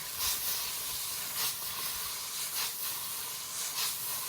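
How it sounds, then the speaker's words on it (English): Loud, steady sizzling hiss from food frying in a hot wok, with periodic bursts of crackle and spatter as the ingredients are tossed. "that sizzling that you're hearing on that red hot wok"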